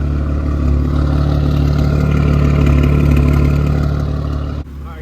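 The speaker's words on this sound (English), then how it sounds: "Alright guys, like I said, I'm just gonna do a couple revs." An Audi RS5 B9 fitted with CarbNlab downpipes runs loud and close, its deep, steady engine drone holding for several seconds before cutting off abruptly near the end.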